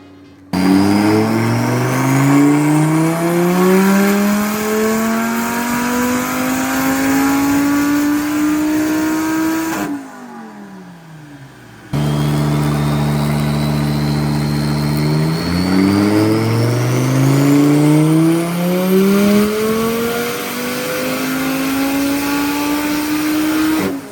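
Loud, close revving of a big turbocharged car engine on a Syvecs ECU during mapping, with repeated rising pulls climbing in pitch, a short drop to idle between runs, then another long climbing rev.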